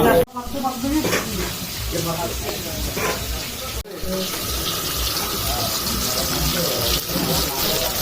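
Water runs and splashes steadily as meat is washed outdoors for a picnic cookout in the Sundarbans, loud and close with a sharp break partway through.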